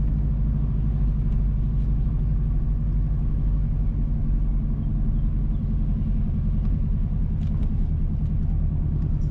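A car driving along a rural road between Huddersfield and Mango Valley in St Mary, Jamaica, heard from inside as a steady low engine and road rumble, constant and fairly loud, with no talk.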